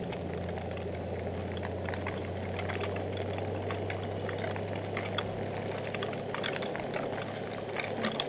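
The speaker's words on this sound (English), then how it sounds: "It's raining hard enough now." Heavy rain with big drops falls along Arizona's Highway 191 near a Honda Goldwing touring motorcycle, a dense, fizzing patter over a low steady hum that persists throughout without letting up.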